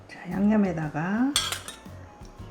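Seasoning sauce stirred with a metal spoon against a bowl, a close clinking scrape for a few seconds with a sharp clatter midway, then quieter scraping.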